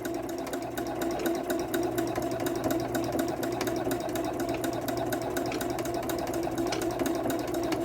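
A sewing machine runs steadily at moderate speed, stitching a twin needle hem on knit fabric, a continuous close mechanical whir with fine rapid ticking and no talk.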